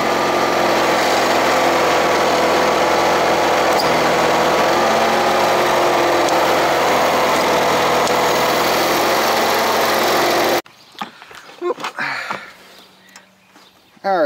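A Toro Proline 724 Z zero-turn mower engine, an older-style model, runs loudly and steadily close by, then cuts out abruptly, leaving faint ambient sounds before a brief restart at the very end.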